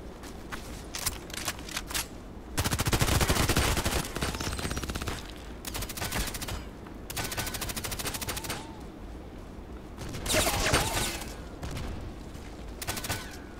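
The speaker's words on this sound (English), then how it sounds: "Where's the shooting coming from?" Gunfire in the Contract Wars shooter, heard as dense automatic bursts and volleys of shots that rise and fall over the stretch, loud and close, with brief gaps between strings of fire.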